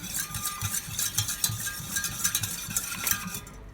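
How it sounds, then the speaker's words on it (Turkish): Egg yolk and milk are whisked briskly in a pot, a quick steady patter of whisk taps and scraping against metal, close and continuous with no talk. "Yumurta sarımla sütümü şöyle birazcık çırpıyorum."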